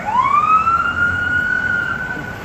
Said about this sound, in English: There went all the guys heading back to prison right there. I don't know if you've seen that in the camera behind us, the vans and the cop cars, but that was that noise.